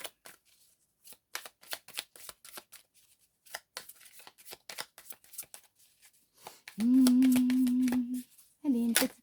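Oracle cards being shuffled by hand, a run of quick papery riffles and taps, then a louder sustained flutter near the end, close and alone with no talking.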